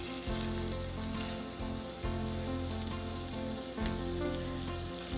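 Bay leaf, peppercorns, cinnamon, cloves and cardamom frying in hot oil for an aloo dum curry, a steady, dense sizzle that runs on without a break, with no talking.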